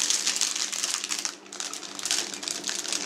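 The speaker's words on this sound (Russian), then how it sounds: "Отрезаем кончик кулинарного пакета" Plastic piping bag being handled and its tip cut off while making chocolate cherry liqueur candies: steady, close crinkling and rustling of thin plastic, with a brief lull midway before the crackling resumes.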